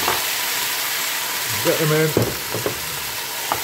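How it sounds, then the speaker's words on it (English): Vegetables tipped into a new hot pan and frying with a steady loud sizzle, brief stirring clatter and a voice speaking briefly over it. "Listen to that new pan sound."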